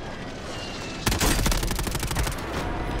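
Sudden burst of rapid automatic gunfire in a video game, loud and sustained after a quieter start, shots rattling in a fast, even rhythm for about two seconds.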